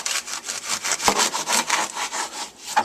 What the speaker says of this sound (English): you must cut at least 1 inch off the corn itself